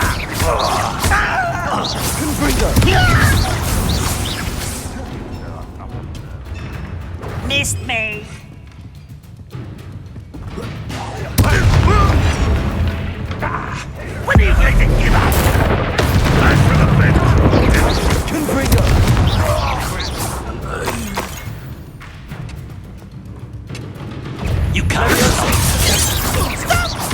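In the Hogwarts Legacy video game, Confringo fire spells set off repeated booming blasts, several heavy bursts spread across the stretch, mixed with crashes and battle effects while a voice talks between them.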